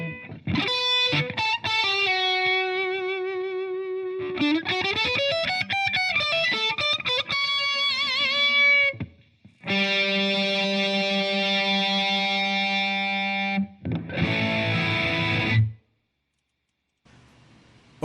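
Electric guitar played through a distortion effect, loud and close, with sustained, buzzing chords and notes, a pitch bend and quick strummed bursts, then a cut to near silence at the end.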